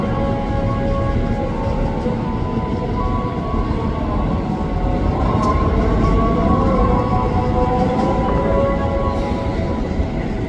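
Electric KRL commuter train, a compilation including Tokyu 8500, Tokyo Metro 7000 and JR 205 sets, running at Pondok Cina station, giving a loud steady rumble with whining motor tones that rise gradually over ten seconds.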